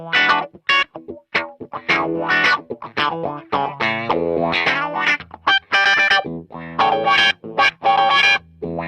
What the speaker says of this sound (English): I'm gonna go bridge pickup coil split because I have a coil split